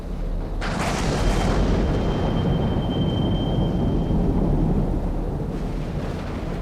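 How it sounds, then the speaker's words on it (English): Heavy rain roars steadily with a deep rumble of thunder underneath, loud and continuous, with a brief sharper crack near the start. "the rain outside seemed to grow louder, as if the storm itself was alive"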